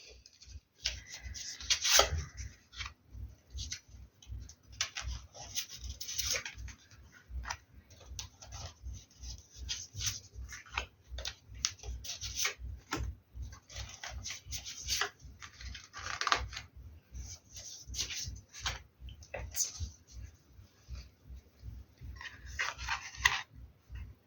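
A tarot card deck being cut and handled, giving a steady run of soft rubbing and ticking card sounds with crisp, papery bursts throughout, fairly quiet and close, with no talking.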